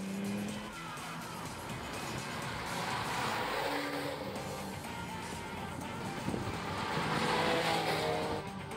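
Porsche race cars thunder around a circuit, a continuous dense roar of engines with tire squeal and skidding, loud and steady for the whole stretch with no talk.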